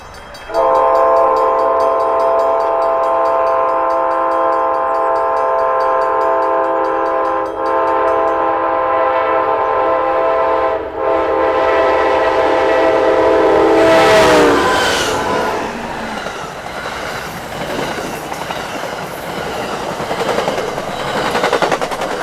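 An Amtrak ALC-42 passenger locomotive passes at Suwanee, its loud, sustained multi-tone horn blasting for about fourteen seconds before giving way to rumbling, clattering wheels and cars rolling by.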